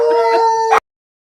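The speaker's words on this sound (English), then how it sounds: "I'll mute if my dogs howl." Dogs howling in a home, a loud sustained tonal howl with steady pitch lasting under a second before cutting off abruptly to silence.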